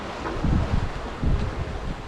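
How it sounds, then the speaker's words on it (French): Wind buffets the microphone aboard a small sailboat running under full sail in about 10 knots, gusty low rushing with a few stronger pulses, no voices. "Il fait beau, on a du vent."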